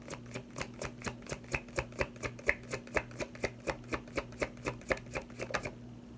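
Tarot cards riffled and snapped down in a fast, even run of about two dozen crisp clicks over a low steady hum, with no talking.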